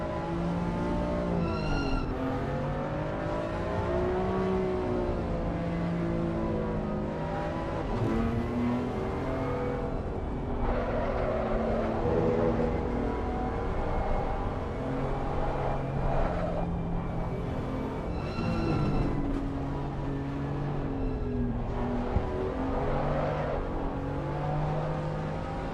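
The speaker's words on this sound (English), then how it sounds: "These cars sound very soft to me at this moment." BMW M2 CS race car engines in a racing video game whine and rev continuously, pitch rising and falling through gear changes, with occasional tire squeals; steady and moderately loud throughout.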